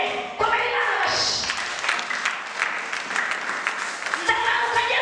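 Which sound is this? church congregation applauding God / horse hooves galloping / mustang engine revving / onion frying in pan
church congregation applauding God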